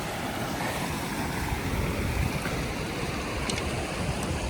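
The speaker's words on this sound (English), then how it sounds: "Flowing down to the creek." Creek water flows along the Merced Pass Trail in Yosemite, a dense, steady rushing wash close by without pauses, no speech.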